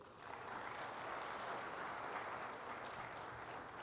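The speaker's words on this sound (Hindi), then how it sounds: "आपकी तालियां, आपका प्यार, आपकी मोहब्बत मित्तल साहब के लिए एक बार होनी चाहिए" A crowd at an award ceremony for carpenters and contractors applauds steadily, a soft, distant wash of clapping that swells quickly and holds without pause.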